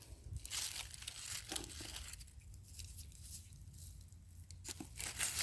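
Plastic debris is handled at a creek among rocks, with faint crinkling, crumpling and tearing sounds in quick irregular bursts over quiet outdoor background.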